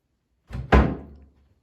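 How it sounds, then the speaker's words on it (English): Two quick wooden thumps as cabinet doors are shut in succession, the second louder and closer, ringing briefly in a quiet room. "then we will shut the cabinet doors"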